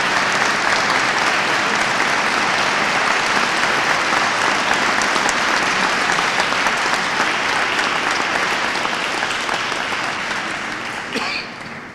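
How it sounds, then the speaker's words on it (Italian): A concert audience in Ponte Lambro gives a long, warm round of applause at a Christmas concert, with dense, steady clapping filling the hall before easing off slightly at the end. "vi chiederei ancora un altro applauso ancora più caloroso"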